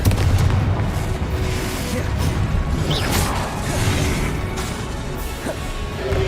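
Booming blasts from the Confringo spell in Hogwarts Legacy, heavy rumbling explosions with crackling debris and whooshes, loud and dense throughout with a strong hit at the start and further impacts later.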